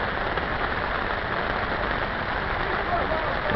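Steady rain falls at a fishing pond, a constant dense hiss of drops hitting water and surfaces, loud and even throughout.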